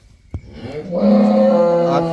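A young buffalo calf gives one drawn-out, nasal moo after a brief knock, loud and close.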